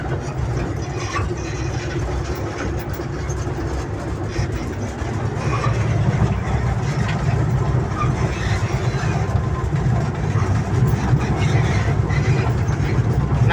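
Empty sugar-cane rail wagons are shunted on a sugar railway. A low, continuous rumble of the train and its engine stays steady throughout and swells slightly partway through, under some distant background voices.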